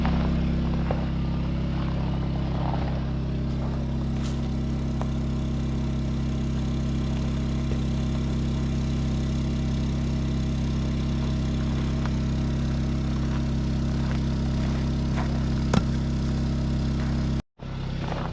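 A Honda 2200 generator runs steadily nearby, a constant low engine hum with strong tonal drone, holding even for the whole stretch before cutting out abruptly near the end and restarting.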